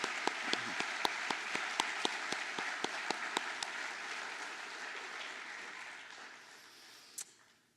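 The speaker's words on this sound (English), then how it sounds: "please join me with a round of applause." Applause from the audience at a 9/11 remembrance ceremony, opening with distinct sharp claps that blend into a sustained wash of clapping, then gradually fading toward the end.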